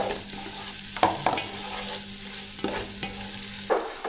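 Tomatoes drop into onions frying in a pan, with a continuous sizzle broken by several sharp scraping stir strokes at irregular intervals, close and moderately loud.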